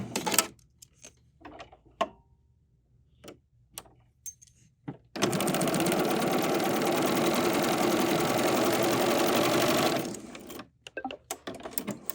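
A BERNINA 990 sewing machine stitches a quilt in one sustained run of about five seconds, a steady close mechanical whir and rapid needle chatter, with scattered small handling clicks before and after.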